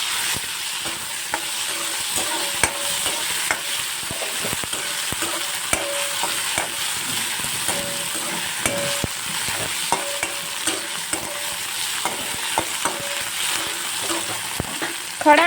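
Whole spices and finely chopped tomato sauté in a pan, giving a bright sizzle broken by frequent quick scrapes and taps of a spoon, close and steady throughout, with a louder clatter at the end and no voices.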